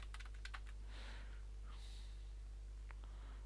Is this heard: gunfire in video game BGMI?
no